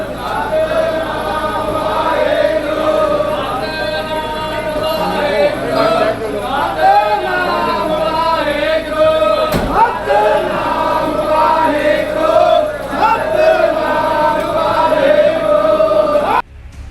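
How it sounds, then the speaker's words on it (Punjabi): A large Sikh congregation shouts jaikara slogans loudly, many voices blending into a continuous roaring chant with rising and falling cries throughout, plus one sharp thump partway through. "ਉੱਚੀ ਉੱਚੀ ਜੈਕਾਰੇ ਲਗਾਏ ਜਾ ਰਹੇ ਨੇ"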